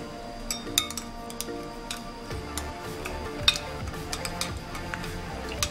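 Spoon stirring rice powder in a bowl: light, irregular clinks and taps of metal against the dish, quiet and close, with no voices.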